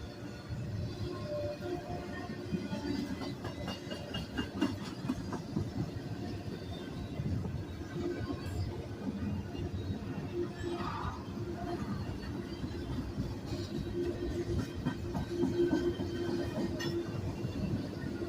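A steady low rumble and clatter of a train rolls on throughout, with faint metallic clinks and squeals over the continuous noise.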